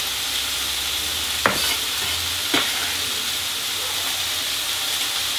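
Ham and vegetables fry in a pan for fried rice, giving a steady close sizzle with two sharp scrapes of stirring.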